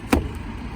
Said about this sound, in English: connecting up to my car now, it's quite heavy and awkward